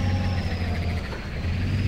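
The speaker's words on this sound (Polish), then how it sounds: "tu jest silnik z czołgu" A boat fitted with a tank engine runs out on a lake, with a steady, close, droning motor note and a revving edge throughout, alone with no talk.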